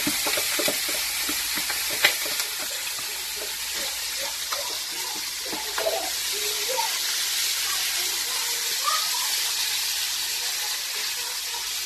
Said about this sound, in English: So I put the chicken in a frying pan like this.